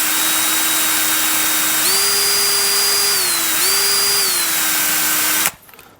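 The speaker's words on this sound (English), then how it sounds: "Just spin the washer with the brush." A handheld drill fitted with a wire brush whirs steadily while scrubbing a washer from a Vespa GTS250ie brake caliper, its pitch stepping up twice and then cutting off abruptly.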